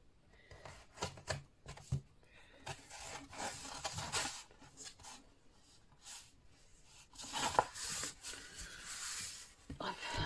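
An A3 sheet of paper is creased and folded for a handmade mini album, with quiet rustles, rubs and crisp scraping strokes in irregular bursts, close to the listener and without speech.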